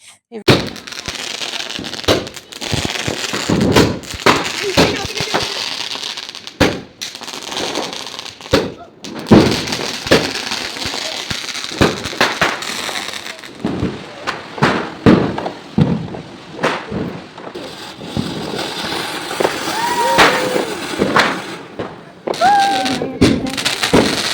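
Sharp cracks and pops of Diwali firecrackers burst irregularly over a steady noisy background, with voices murmuring and calling nearby; a few whistling fizzes rise near the end.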